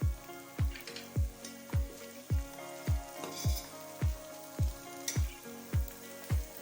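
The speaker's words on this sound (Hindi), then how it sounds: "इसको तब तक हम फ्राई करेंगे लहसुन अदरक को जब तक इसका कच्चापन ख़त्म ना हो जाए" Garlic and ginger fry in a pan with a soft, constant sizzling crackle. A spatula knocks against the pan in a steady, regular rhythm.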